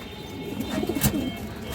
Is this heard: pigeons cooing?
yes